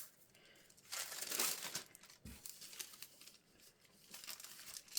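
Sheets of paper folded and creased for a handmade bird journal, giving a few bursts of crinkling and crumpling, close and fairly soft, with quieter handling rustle between them and no talk.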